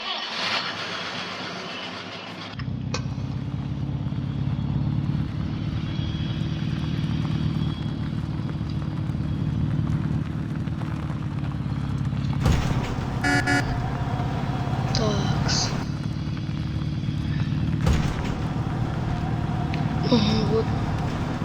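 An old GAZ Volga car's engine starts, then hums in a steady low drone as it drives, heard from inside the cabin, with a few faint clicks and knocks over the run.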